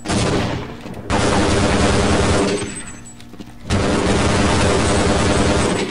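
Rapid gunfire and grenade blasts in the first-person shooter Half-Life: Blue Shift, loud, dense and continuous, with two brief lulls between sustained bursts of shooting and explosions.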